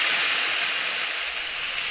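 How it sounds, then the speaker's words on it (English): Onions and garlic sweating in a pan, a steady loud close hiss and sizzle with no pause and no voices. "So I'm going to sweat these off now for about a couple of minutes, 3-4 minutes"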